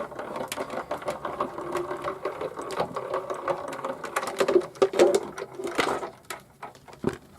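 An embossing folder being cranked through a manual embossing machine for a papercraft gift box gives a run of rapid clicking and ratcheting taps, close and moderately loud, with no talking.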